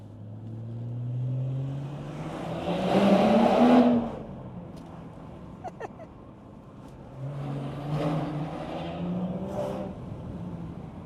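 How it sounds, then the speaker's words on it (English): A BMW G30 540i with a B58 engine and a catback exhaust with its valves open, driven in manual mode: two rising revving pulls with a throaty exhaust note, close by, easing off between them. "So you can drive it with the valves open, hear the B58 engine"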